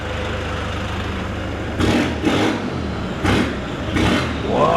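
A Toyota Hilux Sport Cruiser pickup with a turbo sits idling, then is revved four times in short bursts, each rise loud and close before falling back to a steady idle.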